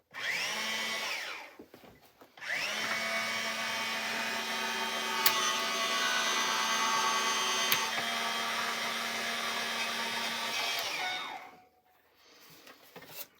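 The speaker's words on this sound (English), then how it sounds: "I have an Evolution die cutting machine" A steady mechanical whir with a droning motor tone from an electric die cutting machine with an automatic feeder runs for about eight seconds, with a couple of brief clicks, starting and stopping between quieter pauses.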